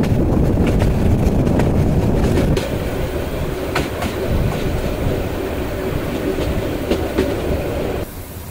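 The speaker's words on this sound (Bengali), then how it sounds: "5টা 45 মিনিটে আন্তনগর তিস্তা এক্সপ্রেস চলে আসলো পিয়ারপুর রেলওয়ে স্টেশনে।" The Intercity Tista Express pulls into Piyarpur railway station in Bangladesh with a loud, close, continuous rumble of wheels and carriages, rhythmic clatter and occasional clicks, easing slightly in intensity as it slows.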